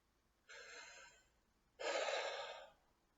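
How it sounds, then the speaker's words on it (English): A person draws a big, deep breath: two long, close airy inhales, the second louder and fuller, with nothing else around them. "Take a big breath."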